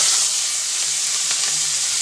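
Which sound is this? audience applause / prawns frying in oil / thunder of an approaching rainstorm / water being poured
prawns frying in oil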